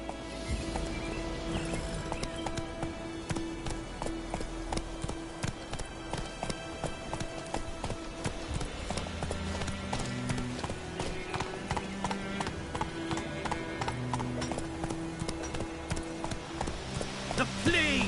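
Roach the horse galloping in The Witcher video game, a fast steady clip-clop of hooves running throughout, with a voice speaking over it and a brief whinny.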